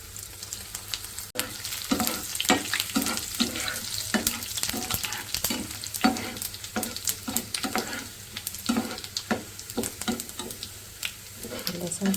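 Garlic sizzles and crackles in hot oil as a tempering for masoor dal while a spoon stirs in irregular scraping strokes, the frying hiss steady throughout.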